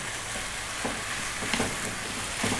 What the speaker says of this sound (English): Tablespoon of garlic. And again, let's go on this kind of fairly lively heat for about 3 minutes.